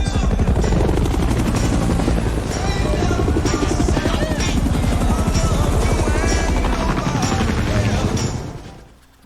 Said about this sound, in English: You can't have too much helicopters in Vietnam War